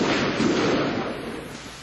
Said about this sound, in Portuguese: A todo momento, mais tiros.